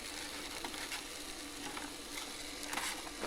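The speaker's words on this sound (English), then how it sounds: "Oh, look, it's sizzling." Food sizzles steadily in a hot pan on an induction cooker, a continuous crackling hiss with a few sharper pops, no voices.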